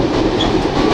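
Inside the Benapole Express as it creeps slowly across points onto the other rail line, a close, loud, steady rumble of carriages with a faint clatter of wheels. No voices.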